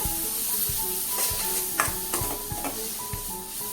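Spice masala gets stirred into potatoes and tendli frying in a pan, a low steady sizzle under a run of soft, regular spoon taps and scrapes, close and moderately quiet, and no one speaks.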